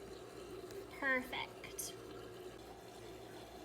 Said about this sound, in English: pour the water into the clear container that you're using